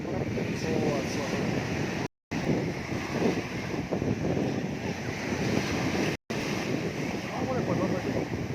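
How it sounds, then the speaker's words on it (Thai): Strong ocean waves rolling onto the beach at Pattaya on an evening walk, a continuous loud surf wash with wind buffeting the microphone and two short dropouts. "ได้ยินเสียงคลื่นครับ"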